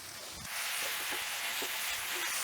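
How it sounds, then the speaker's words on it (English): Ginger and garlic sizzle in a hot pan while a curry is being made. A broad, hissing fry jumps louder after the first half second and then holds steady, with faint stirring knocks underneath. "We're going to add ginger and garlic. And that, we're going to let cook on the heat of the pan for a few seconds"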